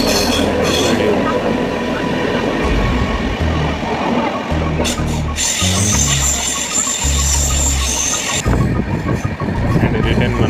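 A train running through an underground section, rumbling loud and close with continuous rail noise, deep low pulses and bursts of high metallic screech from the wheels throughout.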